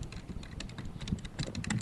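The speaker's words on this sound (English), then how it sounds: "You can hear me typing. Type sounds." Fingers type on a computer keyboard, producing a fast, continuous patter of close, soft key clicks with no talking.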